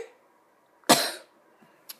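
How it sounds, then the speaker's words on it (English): One sharp, harsh cough from a person with a cold, close and fairly loud, followed by a faint short throat sound in an otherwise quiet room. "I have a cold and I've been coughing a lot."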